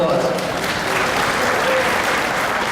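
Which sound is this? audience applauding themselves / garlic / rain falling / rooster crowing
audience applauding themselves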